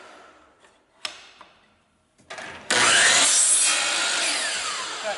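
A compound miter saw with a manual stop and a 10-inch spacer cuts a wooden piece to length: a few sharp clicks and a brief rising whir, then a loud, sustained blade-through-wood roar that slowly fades.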